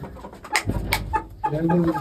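Chickens cluck and squawk nearby in short bursts, with soft indoor background noise and occasional faint voices.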